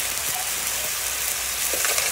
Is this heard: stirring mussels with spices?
yes